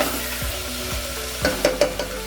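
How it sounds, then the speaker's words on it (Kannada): Soaked peas frying in a pan for Karnataka-style vangi bath: a steady close sizzle of hot oil with a few soft stirring clicks and scrapes near the end. "ನೆನೆಸಿಟ್ಟು ಆ ಬಟಾಣಿ ಹಾಕ್ತಿದ್ದೀನಿ ಕ್ಲೀನಾಗಿ ಫ್ರೈ ಮಾಡ್ಕೊಳ್ಳಿ"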